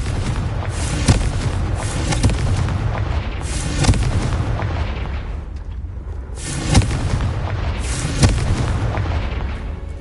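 Explosive Confringo spell blasts in the video game Hogwarts Legacy, heavy repeated booms over a constant loud rumble of game sound, with no talk.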